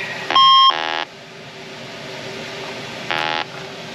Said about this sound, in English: this nice Matco leak detector